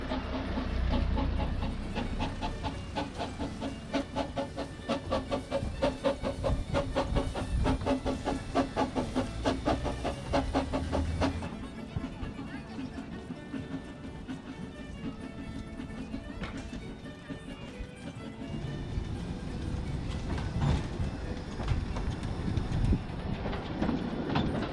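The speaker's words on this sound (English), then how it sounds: "I did get to see Dyfnaint bring in the last train of the day" The steam locomotive Dyfnaint rolls into a UK station with the last train of the day, rhythmic chuffing and clanking, steam hissing over a heavy rumble, the beat easing as it slows.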